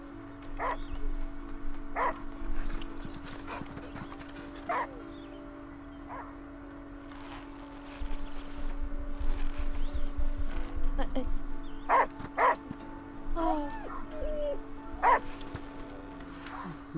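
A dog barks in the video game The Last Day of June, short repeated barks spread across the clip over a steady game background hum, with someone talking over it.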